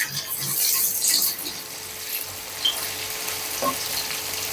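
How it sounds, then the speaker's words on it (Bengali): Chapa shutki, dried fish, frying with onions in a pan while being stirred: soft sizzling hiss with scraping and clinks of the spatula, close and moderately loud, no voices. "চাপাটা দিয়ে ভালো করে নেড়ে চেড়ে নিচ্ছে"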